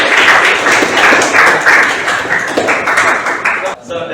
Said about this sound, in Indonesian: Baik, kita beri aplaus terlebih dahulu.